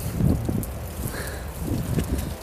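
Outdoor wind buffets a small action camera during a wind noise reduction test, heard as low, uneven rumbling gusts that swell and fade, with faint rustling and no speech.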